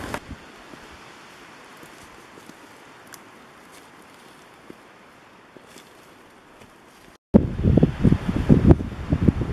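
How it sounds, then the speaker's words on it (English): Wind gusting through the Maine woods during rifle season, a soft steady rush with faint rustling for most of the stretch, then a short gap before a louder, buffeting burst of wind noise close to the microphone. "Killer day though, the wind is awesome."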